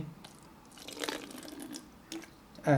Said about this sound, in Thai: เทน้ำ ออกหมดเรียบร้อย